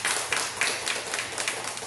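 A church congregation at a Korean Sunday service breaks into brief, lively applause: a dense patter of many hands clapping together, fairly close and loud, with no talking over it.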